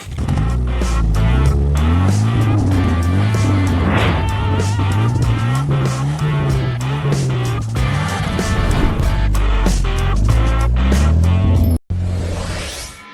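A cartoon car drives off on a journey with a loud, close engine whose pitch rises and wavers as it revs, mixed with tire squeals and sharp whooshes, then cut off abruptly near the end.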